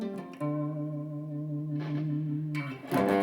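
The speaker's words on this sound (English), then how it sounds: "The pedal it's going through, a TC Electronic Mojo Mojo." An electric guitar played through a TC Electronic Mojo Mojo distortion pedal into an amp sustains a single distorted chord with rich overtones, close and clear, ending with a fresh pick attack.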